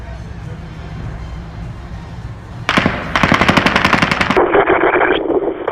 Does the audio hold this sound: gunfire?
yes